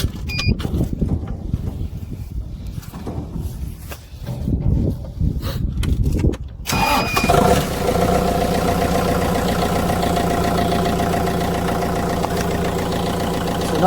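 A forklift engine on a 12-volt system turns over after a few seconds of quieter clatter, then settles into a loud, steady idle that hums evenly to the end.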